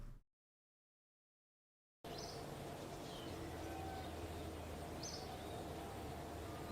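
Birds chirp at the space center in Kerbal Space Program: a couple of brief, high, faint calls over a steady ambient hum, which starts after a couple of seconds of silence.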